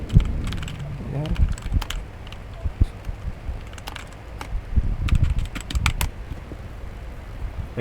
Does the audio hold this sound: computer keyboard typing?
yes